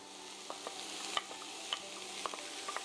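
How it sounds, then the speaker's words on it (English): Diced onions hitting hot olive oil in a pan give a soft, steady sizzle scattered with small crackles and pops, close and quiet, with no speech. "to that olive oil, I'm going to add my onions"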